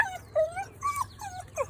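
A dog whimpers and yips in a series of short, high, whiny cries, about four separate bursts close to the listener, with a low steady hum underneath and no talking.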